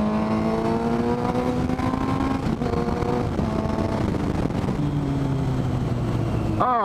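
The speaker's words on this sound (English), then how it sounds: "I love the sound of this bike" A Yamaha Fazer 600 motorcycle fitted with a cheap aftermarket exhaust can runs on a potholed road, its engine droning steadily with rising and falling revs close by, mixed with wind noise throughout and no talking.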